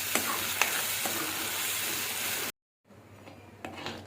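Curry leaves hitting hot oil and gravy for a paneer dish, a loud close sizzle that crackles steadily for a couple of seconds, breaks off briefly, then returns more faintly.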